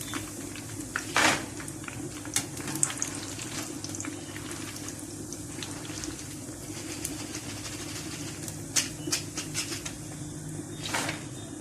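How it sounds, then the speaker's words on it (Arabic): Pieces of bread deep-frying in oil for Egyptian koshari give a continuous bubbling sizzle with scattered sharp crackles and pops, close and steady for the whole stretch. "نحمر بقى بقيه العيش علشان بقى نعمل بقى الرز والتقليه بتاعتنا والصلصه"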